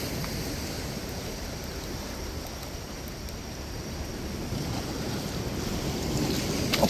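Ocean waves wash onto Jungni Beach at night amid rough surf, a continuous broad rushing roar mixed with wind buffeting the microphone, growing slightly louder toward the end.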